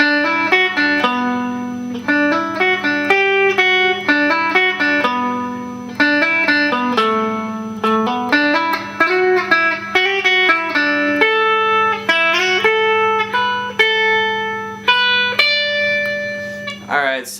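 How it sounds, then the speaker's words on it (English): Electric guitar plays a solo, a quick run of clean, distinct picked notes. The phrases repeat and climb over a steady low hum, with no voice over the playing. "the next part of the solo is going to sound like this."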